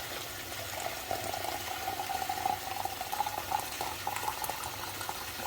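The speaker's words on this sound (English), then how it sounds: "So pour my kettle water on." Boiled kettle water pours steadily into a container of salt, a continuous bubbling, gurgling stream with a rising tone as it fills, fairly quiet and close.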